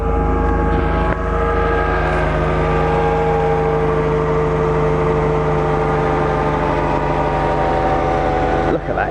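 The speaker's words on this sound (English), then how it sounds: "Right, we'll start her up and we can see what she sounds like." A 1993 Mercedes 300E W124 saloon engine idles steadily after starting, a smooth continuous hum with a strong low drone and even tonal layers, running alone for the whole stretch.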